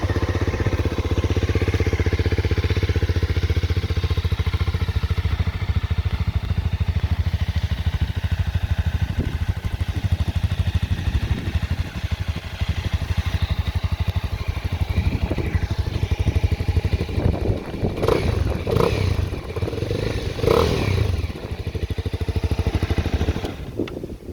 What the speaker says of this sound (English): As you can hear, the bike fires right up, has a nice grumble to it.